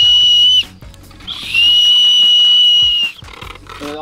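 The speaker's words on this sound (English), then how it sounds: "Is this a whistle?" Small survival-kit whistle blown in two shrill, sustained blasts, the second longer at about one and a half seconds, loud and close, with brief handling noise around them.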